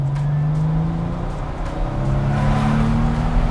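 A Porsche 993 Carrera 2S air-cooled flat-six pulls hard in second gear, its engine note rising steadily toward 5,000 rpm, loud and close from inside the car with a smooth, continuous drone and no talking.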